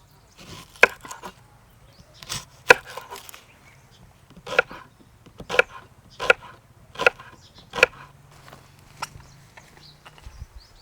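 A knife chops onion on a wooden board in a remote mountain village kitchen, making a run of sharp, separate thuds at an uneven pace with short pauses between them. The sound is close and clear, with no talk.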